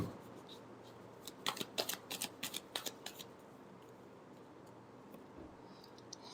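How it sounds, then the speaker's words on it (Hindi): Tarot cards riffled and shuffled in a quick burst of crisp flutters and snaps near the start, followed by quieter card handling; no talking. "बहुत सारे कार्ड्स गिर गए। Last shuffle"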